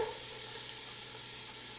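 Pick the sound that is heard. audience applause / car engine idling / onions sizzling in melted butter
onions sizzling in melted butter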